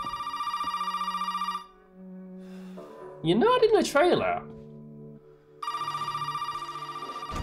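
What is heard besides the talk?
telephone ringing in Resident Evil 7 video game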